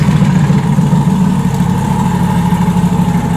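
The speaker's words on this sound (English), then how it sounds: "There will be no one that will find a C8 that sounds better than this and has more turbo noise than this car." A Chevrolet Corvette C8 with a turbo setup runs loud and close, its engine a constant heavy rumble with a dense hissing whoosh on top, steady throughout without talk.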